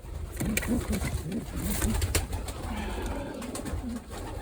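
Pigeons kept for racing coo in repeated low rolling phrases close by, with rustling and clicks throughout and no voices.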